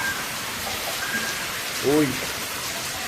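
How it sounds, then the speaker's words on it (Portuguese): Steady rain falls with strong wind in Janduí in the Brazilian sertão, giving a constant hiss of drops. A voice speaks briefly over it. "Chuva com bastante vento."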